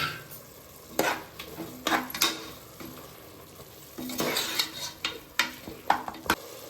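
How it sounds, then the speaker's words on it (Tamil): A spoon scrapes and stirs a thick masala mixture of ground spices and sautéed tomato in a pan for chicken curry, with soft frying sizzle beneath irregular, close knocks and scrapes against the metal. "இப்போ எல்லாத்தையும் ஒன்றோடு மிக்ஸ் பண்ணி விட்டுக்கலாம்"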